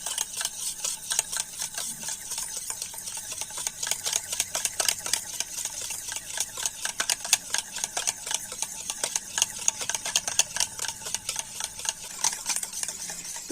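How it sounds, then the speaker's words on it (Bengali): An electric blender whisks sour yogurt in a bowl, a rapid, steady rattling whir with fine ticking texture that runs continuously at close range without pause. "আর এবার একটা ব্লেন্ডার দিয়ে প্রথমে টক দইটা একটুখানি ফেটিয়ে নেব।"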